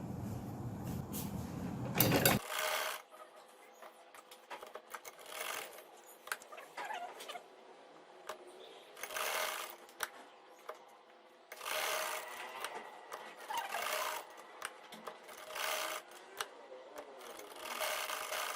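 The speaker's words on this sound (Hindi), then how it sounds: "अब मैं जिगजैग की शेप पर मशीन से सिलाई लगाऊंगी।" A sewing machine zigzag stitching on fabric in repeated whirring bursts of a few seconds each, separated by quiet pauses, after a brief louder rustle at the start.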